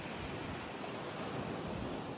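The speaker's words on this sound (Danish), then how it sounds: "Bølgerne er ikke så vilde i dag." Ocean surf on a beach at Ko Phra Thong rushes in a steady, broadband wash, with the waves fairly calm and some wind noise hitting the microphone.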